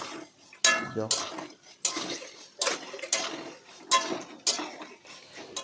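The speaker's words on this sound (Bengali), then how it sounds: "সব চিকেনগুলো দেওয়ার পর ভাজবো এরকম করে" Chicken pieces frying in a pan are stirred with a utensil, giving a series of sharp scraping clacks every second or so over a faint background sizzle, fairly close.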